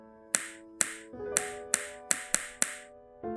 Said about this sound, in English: I snap my fingers, which, from her facial expression, upsets her a lot.